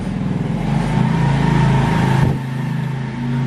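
A motorcycle engine, a 2006 Honda Supra X 125D, runs loud and close, a steady mid-pitched drone that swells slightly and then drops back as it passes.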